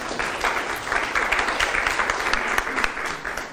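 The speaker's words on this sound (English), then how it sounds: "So give a clap to yourself" Classroom audience applauding themselves during an education session, a dense, steady wash of many hands clapping at moderate loudness, alone and continuous throughout.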